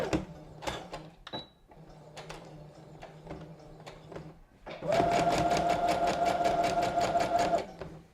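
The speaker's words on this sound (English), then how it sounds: "I'm going to start with the opening edge to my left and sew down this right side." A sewing machine stitches a bag seam, first a few short clicks and bursts of stitching, then a fast, steady run of rapid stitches for several seconds, close and clear.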